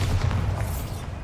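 A Bombarda explosion spell goes off in the video game Hogwarts Legacy: a loud, sustained low boom with deep rumbling that fills the whole moment without a break.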